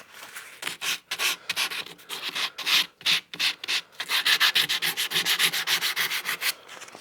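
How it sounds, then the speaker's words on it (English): Rhythmic rasping strokes of sandpaper on a cottonwood bark carving, close up, in quick repeated bursts with brief pauses between passes. "Really nowhere near as much sanding as I'm doing on the face."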